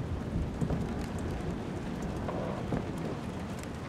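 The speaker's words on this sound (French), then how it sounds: "Il pleut dedans." Rain pouring inside a dilapidated house in the game Detroit: Become Human, a loud, dense, steady hiss of water with rumbling low tones and scattered drip accents throughout.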